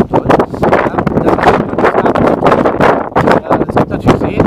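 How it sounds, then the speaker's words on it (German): Strong wind buffets a microphone outdoors beside a small, deep lake, producing loud, continuous rumbling gusts with sharp bursts throughout. "Ich hoffe, der Wind ist jetzt nicht zu toll."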